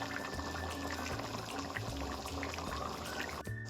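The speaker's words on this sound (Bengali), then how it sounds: "ঝোলটা সুন্দর ফুটে গেছে।" Curry gravy for an elephant-foot yam and prawn dish bubbles in a pot, a soft, steady simmering burble with small pops, close but quiet, ending with a brief clatter.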